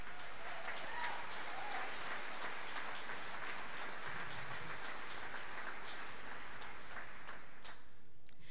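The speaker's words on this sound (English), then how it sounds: "Please stand for a round of applause." A graduation audience applauds honor students, with dense, sustained clapping filling the hall at an even level before thinning out near the end, and faint crowd murmur underneath.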